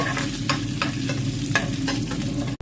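Lentils and curry leaves fry on a low flame, a steady sizzle broken by regular scraping strokes of a stirring spoon about every third of a second, close up with no talking.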